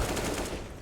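Automatic gunfire in the video game CS:GO, a short rapid burst of shots that fades out within a second, with no talk over it.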